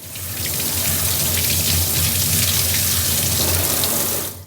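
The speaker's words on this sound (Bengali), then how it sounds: "চিংড়ি মাছগুলো আবার ধুয়ে নিই চলুন" Tap water gushes steadily into a sink as prawns are rinsed under it, a loud, continuous close rush that stops abruptly at the end, with no talk.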